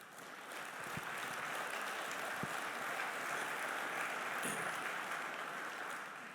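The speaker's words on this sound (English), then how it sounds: "We should give these folks a round of applause for keeping our state and our nation moving." A crowd at a North Dakota transportation conference applauds state transportation workers during a governor's address, a faint, distant, evenly sustained wash of clapping that swells in and fades near the end.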